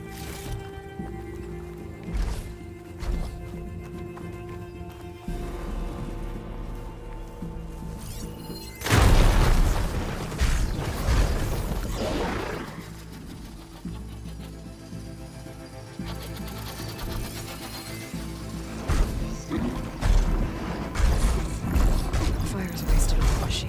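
Grimhorn machine creatures in Horizon Forbidden West, whirring and grinding mechanical clanks and ratcheting movements, quieter at first, then a loud heavy burst of metallic rumbling and repeated mechanical stomps, with a voice speaking at moments.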